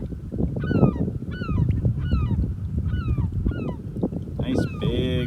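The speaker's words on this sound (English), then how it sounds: "getting dive bombed by a seagull" Seagull dive-bombing canoeists on a lake gives repeated harsh honking calls in a steady rhythm, close and loud over wind and water noise.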